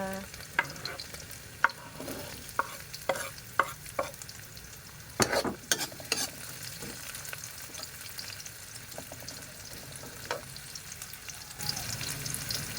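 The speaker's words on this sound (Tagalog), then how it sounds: "saka natin isunod yung bawang at sibuyas" Garlic, onion and ginger sautéing in a pan, a soft continuous sizzle under frequent sharp spatula knocks and scrapes against the pan, close and moderately quiet, with no speech.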